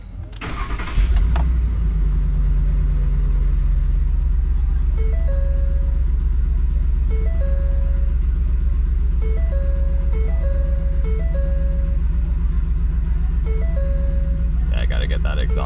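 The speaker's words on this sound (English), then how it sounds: "I gotta get that exhaust fixed, but sounds good." A 2010 Ford F-150 with a leaking exhaust starts with a brief cranking burst, then idles with a loud, steady low rumble; a repeating electronic chime sounds over it, and someone talks briefly near the end.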